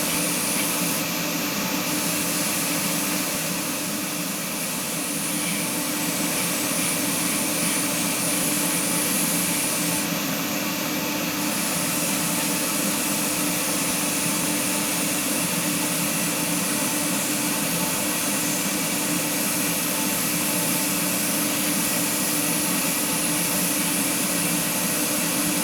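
Steady, loud airbrush or spray-can hiss while painting a McLaren Honda MP4-30 scale model kit, a continuous close spray that runs unbroken for the whole span with no voices.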